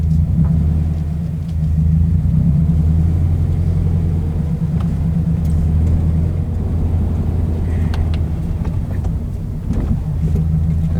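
A 2016 Scion FR-S, just given fresh transmission fluid, drives along with a steady low engine and road rumble heard from inside the car, loud and continuous with no speech.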